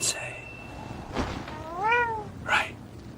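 A cat meows close by, about three drawn-out, rising-and-falling calls over a few seconds against a quiet background.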